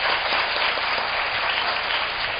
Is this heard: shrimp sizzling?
no